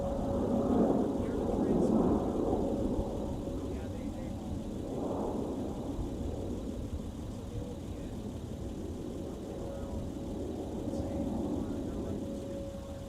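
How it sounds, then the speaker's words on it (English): A Boeing 747 jet takes off at Minneapolis–Saint Paul airport, its broad engine roar steady and fairly distant, rising slightly and then swelling again, with a constant hum underneath. "747 is off the ground."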